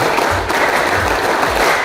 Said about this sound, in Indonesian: Satu kali tepuk pramuka.